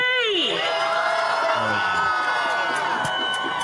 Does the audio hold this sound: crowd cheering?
yes